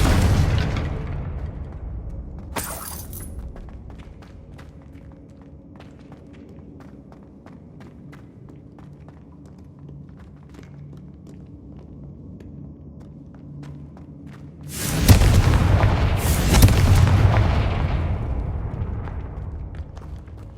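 A Confringo spell explosion in Hogwarts Legacy, a quiet stretch of game ambience and footsteps followed by a loud booming blast with rumbling debris that trails off.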